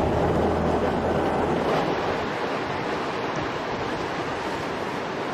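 Surf of the Indian Ocean seen from a South African hotel room, a steady broad wash of breaking waves with wind rumble across the microphone, continuous and fairly loud throughout, a low engine-like hum fading early on.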